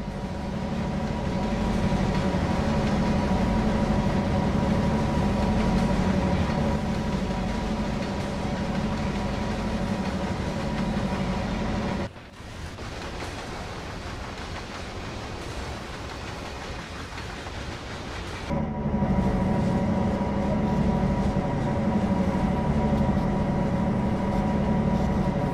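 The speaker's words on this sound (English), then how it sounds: "TrainSim World allows you to ride and drive trains from a selection of internal and external camera angles." A train in the Train Sim World game on the CN Oakville Subdivision between Hamilton and Oakville, its engine rumbling loudly and steadily throughout, with a brief quieter stretch in the middle before the full sound returns.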